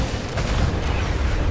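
Spaceship Gatling cannon fire in Star Citizen, a dense, continuous roaring barrage of rapid rounds, loud and unbroken for the whole burst.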